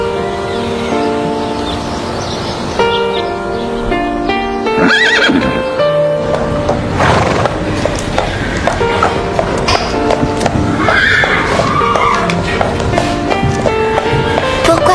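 A mare neighs and whinnies loudly over a full musical score, with clip-clopping hooves and some background voices mixed in across the scene.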